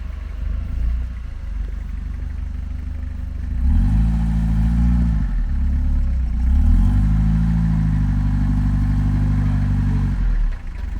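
A 1988 Toyota Hiace van with an open differential drives on poor tyres, its engine rumbling steadily, then revving hard twice in rising and falling sweeps as the wheels spin, close and loud.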